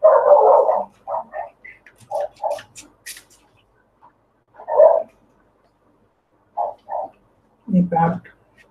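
Dogs barking in a home, short bursts of loud close barks separated by silent gaps, a deeper double bark at the end.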